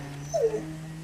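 A dog gives a single short, high whimper close by over a steady low mechanical hum.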